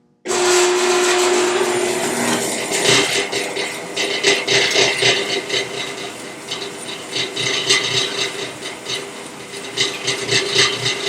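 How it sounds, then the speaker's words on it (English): A homemade bandsaw switches on abruptly and keeps running loud and close, with a steady motor hum under a rough rasping and rattling from its moving parts. "Let's see if Frankenstein's machine is alive"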